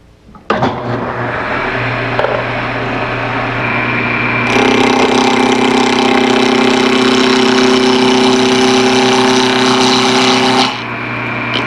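A wood lathe turns a blank while a small bowl gouge roughs it down to a cylinder. A steady motor hum starts up, then a louder, broader cutting roar takes over through the middle before dropping away near the end.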